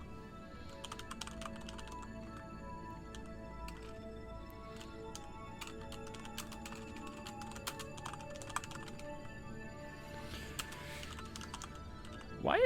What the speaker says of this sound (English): Like I'm sitting here typing MKS resources.